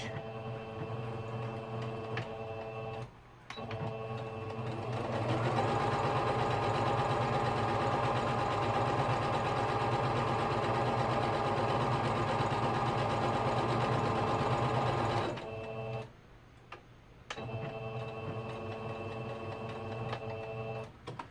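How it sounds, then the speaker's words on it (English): A home sewing machine runs steadily for about ten seconds, stitching a back stitch, with a brief lighter whirr before the main run and short bursts after it, close and fairly loud. "now, sew this down. We want a back stitch"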